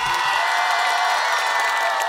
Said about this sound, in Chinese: 我们也掌声送给所有的郁金香